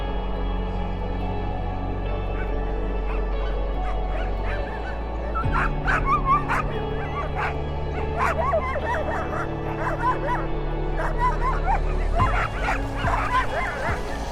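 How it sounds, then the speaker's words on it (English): Siberian husky dogs yip, bark and whimper in repeated short calls over a steady low rumble, filling the scene at moderate distance. "The Siberian husky was not born as a companion dog, but as a crucial tool for survival."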